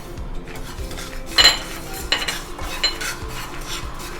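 Whole coriander, fenugreek and fennel seeds go into a hot pan on a gas stove, giving a brief clatter of metal and spoon around the middle, then lighter scrapes and taps over a quiet kitchen background.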